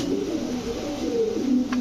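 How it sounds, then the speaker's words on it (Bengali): Khulna Golden pigeons, one of them a chick, coo softly and steadily at close range, a low murmuring call with no talk over it. "দর্শক দেখেন বাচ্চা কবুতর"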